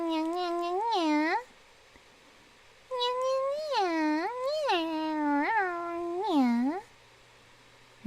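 A person's voice mimics a cat meowing, a quick run of several meows, a pause, then a longer string of repeated meows, close and clear.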